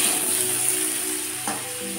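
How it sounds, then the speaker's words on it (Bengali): Potatoes frying in hot oil in a home kitchen give off a steady, close sizzling hiss that carries on without a break and without voices. "আমি আলুগুলো ভাজছি"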